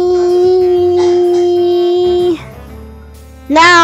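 A dog in the Sword Master video game gives a long sustained howl that breaks off, followed after a short pause by a second rising howl, loud and close with no talk.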